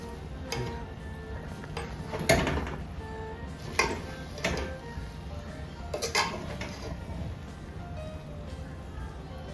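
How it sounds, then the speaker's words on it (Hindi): A spoon stirs beef biryani in a pot, making scattered metallic clinks and scrapes against the pot's sides. A few sharper knocks stand out over a low background. "जी अब हम इसे मिक्स कर रहे हैं।"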